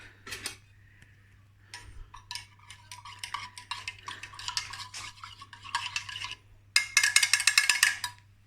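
A spoon stirs brewer's yeast into homemade beer wort in a pot, with bursts of scraping and clinking that come in uneven runs and grow louder and more rapid toward the end. No one speaks.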